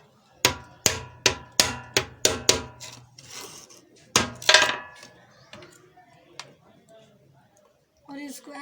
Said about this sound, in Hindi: ऐसे इसको दरमियान में कील लगाएंगे